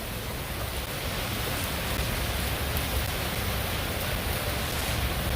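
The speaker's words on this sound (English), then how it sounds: "And it is pouring" Heavy rain pouring steadily at an outdoor train station in a theme park, a dense, loud, continuous wash of rainfall with no voices.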